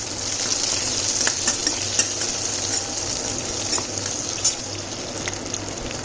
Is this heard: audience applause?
no